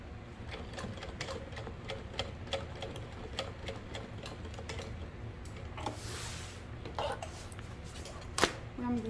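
A sewing machine stitching a tote bag, running in a fast, even rattle of needle strikes with a few pauses and a sharper knock near the end, heard up close.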